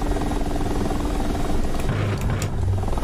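Mi-24 attack helicopter in the DCS World flight simulator, with a loud continuous rotor and turbine drone throughout, steady and close, with faint gunfire-like transients near the end.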